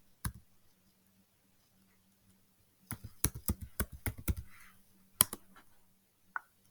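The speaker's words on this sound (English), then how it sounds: "So I'm going to type in Raynham." Short burst of fast keystrokes on a computer keyboard, quiet and close, followed by a few isolated clicks after brief pauses.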